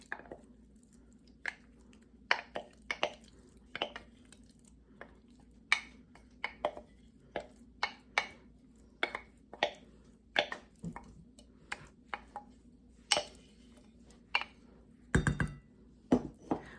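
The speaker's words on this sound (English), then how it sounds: "in my bowl, I'm going to put in 2 cups of cottage cheese" Sharp, isolated clinks and soft wet taps sound close by as cottage cheese is spooned into a bowl, spaced irregularly over a quiet background.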